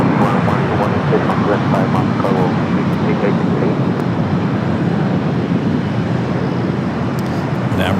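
An Emirates airliner departing LAX for Dubai gives a loud, continuous broadband engine roar that fills the whole stretch, with tower radio chatter faintly mixed underneath.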